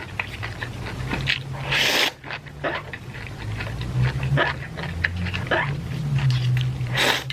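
Wet chewing and slurping sounds repeat up close in irregular bursts, with crunchy bites and scrapes over a low steady hum.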